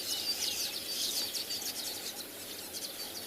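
Breeding birds at Tswalu call in a busy morning chorus of rapid, high chirps and twitters, layered and continuous at moderate distance with no voices.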